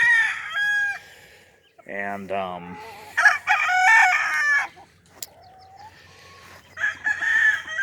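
Roosters tethered outdoors on cords crow several times in turn, loud and close. The crows are separated by short gaps, with a brief spoken word in between.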